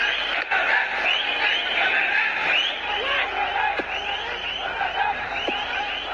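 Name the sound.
cricket crowd cheering for Bangladesh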